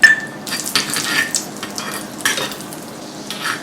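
Spices tempering in hot ghee over medium heat, with mustard seeds and cumin giving a steady close sizzle and frying hiss, scattered crackling pops and a few spoon stirs throughout.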